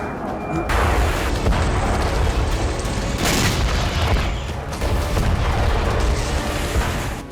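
Heavy, sustained roaring blasts from a missile strike on Sevastopol port in Crimea, a loud rumbling explosion with repeated booming surges and crackling debris for several seconds.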